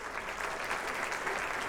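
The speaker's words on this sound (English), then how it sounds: "The crowd cheers as 2 figures take the stage." A crowd cheers and applauds in the video game Boyfriend Dungeon, a dense, continuous wash of clapping at steady volume.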